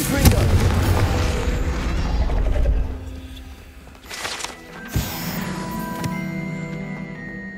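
A Confringo fire spell blasts off in Hogwarts Legacy, a heavy booming explosion up front followed by fainter pops, crackles and magical chimes as the rumble decays.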